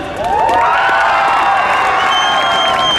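A school family-night audience cheers band teachers, a dense sustained crowd of shouts, whoops and children's squeals, loud and continuous throughout with scattered applause beneath.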